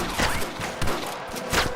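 Gunshots in a Red Dead Redemption firefight: several sharp broadband cracks at irregular intervals over a steady background, with no talk.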